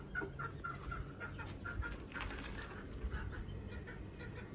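Chickens kept by a local poultry raiser cluck and chatter in a steady, moderately distant stream of short calls over low background noise.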